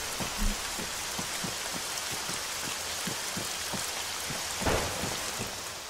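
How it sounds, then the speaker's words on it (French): Thunder cracks from lightning at night in the Arma 3 video game, with steady rain hiss throughout, repeated rumbling bursts and a louder crack near the end, no voices. "c'est les éclairs, hein, qu'on entend péter"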